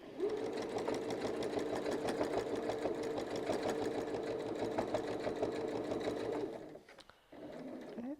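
A sewing machine quilts fabric with a rotating pattern guide, its loud, even motor drone and rapid needle chatter running steadily for over six seconds, then stopping briefly and starting again.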